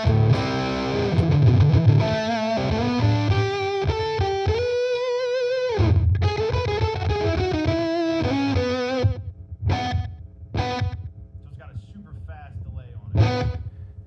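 Electric guitar played through a Fender Mustang GT 100 amp on the Loud as Leeds preset: heavily distorted, roomy chords and riffs ring out, then choppy stabs with pauses, while a voice talks over parts.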